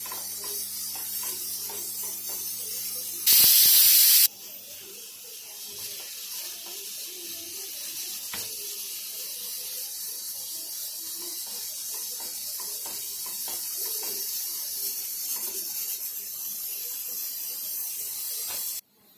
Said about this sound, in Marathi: कुकरच्या ना दोन शिट्या झालेल्या आहेत